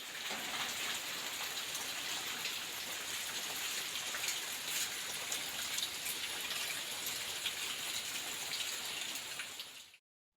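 Steady rain falls throughout, a dense even patter of drops on surfaces that holds constant, then stops abruptly at the end.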